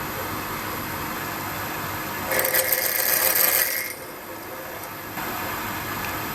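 A lathe drilling a pilot hole into an unknown steel bar for a washer, a steady whirring hum that rises for a couple of seconds as the bit cuts, then drops back to a quieter running drone.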